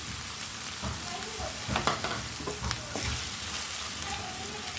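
Pointed gourd curry with ground cumin, coriander, chilli and turmeric sizzles steadily in a pan while a spoon scrapes and stirs it in several distinct strokes, close and clear with no talking.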